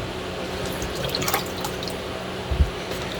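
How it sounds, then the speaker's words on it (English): Tomatoes for canning are rinsed under running water in a sink, a steady close splashing and trickling with a few brief drips and a soft thump near the end. "Then we're just kind of like rinsing them here."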